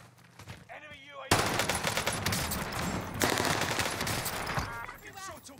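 Bursts of close automatic gunfire in Call of Duty Vanguard Warzone on Rebirth Island, loud rattling volleys broken by a short pause, with brief game noises before and after.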